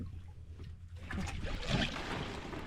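A bangka boat moves over water with a low motor rumble and wash of spray and wind, growing louder and rougher after the first second.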